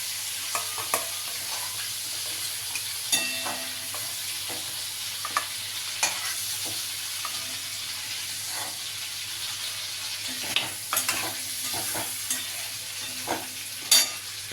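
Prawns fry in hot oil in a pan with a soft, continuous sizzle and hiss, broken by occasional sharp taps and scrapes as they are stirred.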